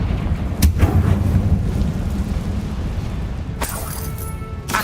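Confringo blasting-spell explosion in Hogwarts Legacy, a heavy booming blast with a sharp crack near the start and a second burst later, over a loud rumbling background.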